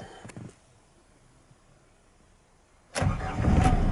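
A 2006 Ford Ranger 2.5 XLT Wildtrak 4x4 diesel starts up: a brief crank then the engine catching into a loud, steady rumble near the mic after a quiet pause, with a faint click early on.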